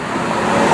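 A Porsche Carrera GT supercar on the move, its harsh, mechanical engine and road noise filling the cabin as a steady, loud broadband drone that builds slightly through the moment.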